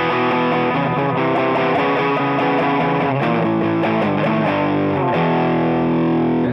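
Electric guitar played through a Rangemaster-style germanium transistor boost pedal, loud, thick chords and sustained notes with mild grit, continuous and even in level.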